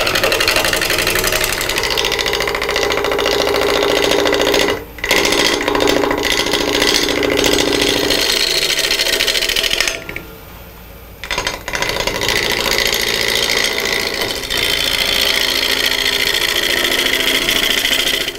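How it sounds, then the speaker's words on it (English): A wood lathe spins a wooden skull blank held in a worm chuck, giving a loud, steady mechanical whir with rattling. It briefly dips twice, once for a longer stretch, without any talking. "it's mounted on the lathe, and I've just got held with a worm chuck so I can carve"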